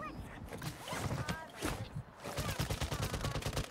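Gunfire in the Warzone battle royale game, rapid bursts of automatic shots crackling in clusters, with a denser stream of shots near the end against background game noise.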